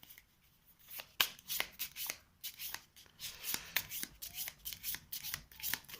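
Level 10 cards from The 7th Continent board game are shuffled by hand on a table, with a series of quick riffling bursts and soft card slaps, close and fairly quiet, with no talking.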